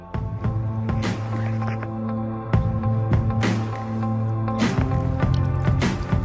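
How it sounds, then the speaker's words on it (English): Muddy, sludgy water poured from a shaken water bottle through a filter gives wet splashing and dripping with squishy bursts over a steady low hum, fairly close and continuous. "We're gonna pour it right in here."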